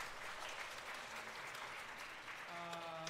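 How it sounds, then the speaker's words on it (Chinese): A church congregation at Sunday worship applauds to welcome a newcomer, with faint, dense clapping throughout and a sustained musical tone entering near the end, all quite distant and low in level. "来拍手欢迎她"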